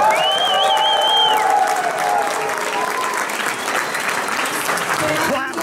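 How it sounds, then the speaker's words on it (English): Crowd applause fills the whole stretch, steady and loud, with a whistle or cheer cutting through early on and voices mixed into the clapping. "Please give them a round of applause."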